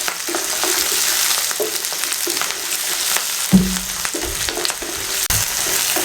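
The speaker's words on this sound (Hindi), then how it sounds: "इसको हल्का सा फ्राई कर लें" Onion, ginger, garlic and green chillies frying lightly in a pan for Hyderabadi stuffed eggplant, a steady close sizzle with a few stirring knocks, no talking.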